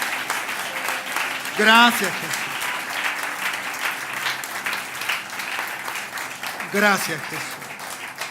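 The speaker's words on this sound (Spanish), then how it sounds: "Dale un buen aplauso a Cristo nuestro Señor." Church congregation applauds steadily during a service, continuous clapping running throughout while a pastor's voice calls out twice over it.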